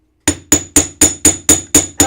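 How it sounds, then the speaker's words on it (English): A pickled metal ring struck with a hammer on a jewelry bench: eight sharp, ringing metallic blows at an even quarter-second rhythm, close and loud with no talk. "I'm going to hammer about 1/3 of this ring."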